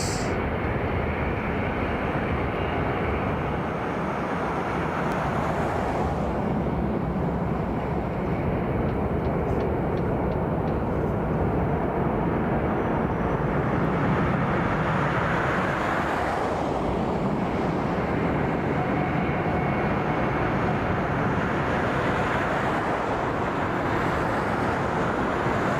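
A FedEx airplane at Las Vegas Harry Reid International Airport, a loud, sustained broadband engine roar that swells and shifts over many seconds, heard from outside.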